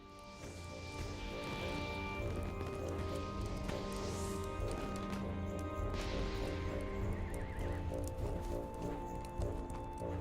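A horse neighs in Lord of the Rings Online, a Yule steed from the Yule festival: a long shaky whinny over busy, steady game sound with hoof-like clatter, loud throughout and no talk.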